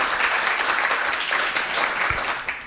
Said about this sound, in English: round of applause for that group